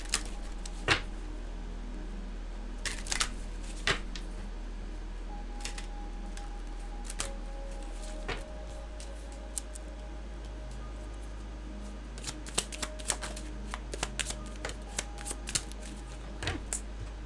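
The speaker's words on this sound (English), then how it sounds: "I love how your cards are just flying out the deck easily" Tarot cards being shuffled by hand, with soft riffling and sharp flicks as cards slip out of the deck, coming in irregular bursts that are close and fairly quiet, with no talking.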